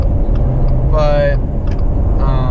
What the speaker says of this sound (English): I'm trying to drive right now.